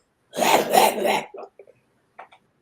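A voice imitates a woman's hoarse coughing fit, a couple of harsh barks followed by small trailing coughs and a faint throat sound.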